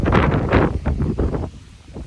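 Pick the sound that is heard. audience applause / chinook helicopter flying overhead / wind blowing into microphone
wind blowing into microphone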